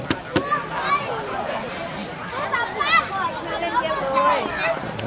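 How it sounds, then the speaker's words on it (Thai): Many people chatter loudly all at once from an office in a busy, echoing babble, with children's high voices rising above the crowd noise. "เสียงเจี้ยวเจ้าเลยนะ"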